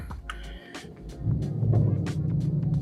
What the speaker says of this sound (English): I hope you're hearing the rumble of this Ford Mustang.